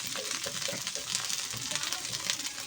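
Ground spice paste fries in hot oil in a pan for a fish curry, a steady close sizzle with occasional stirring scrapes and no talk.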